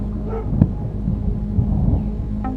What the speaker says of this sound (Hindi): जोर जोर से लगातार भौंके जा रहा था।